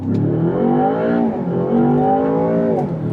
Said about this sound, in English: Let's slow down. Ooh, we get some burbles.